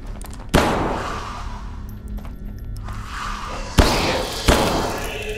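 Gunfire in the horror shooter Hidden Deep: a few heavy, booming shots spaced seconds apart, each followed by a ringing decay, over a low ambient game drone.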